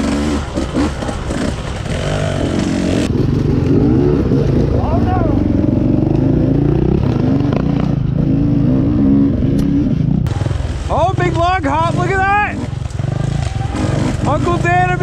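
A 150 cc two-stroke fuel-injected motorcycle being ridden on a single track, its engine loud and close throughout with revving surges, under steady talk.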